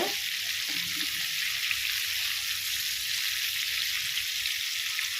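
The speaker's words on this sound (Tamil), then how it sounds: "இப்போ போட்டு எண்ணெயில் போட்டு இப்போ மிதமான தீயில் வச்சு நம்ம வறுத்து எடுக்கணும்" KFC-style chicken fries in oil over medium heat with a loud, dense, continuous sizzle heard up close and alone.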